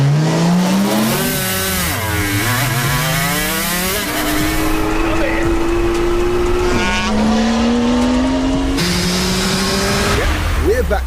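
A Toyota Supra with a 2JZ engine races an Aprilia RS250 two-stroke motorbike, engines screaming loud and close as revs climb in rising sweeps, drop at gear changes and climb again.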